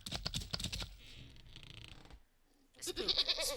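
Goat bleats in the video game Wytchwood, a couple of short, strained bleats around a quiet gap, mixed with light clicking like keyboard keys.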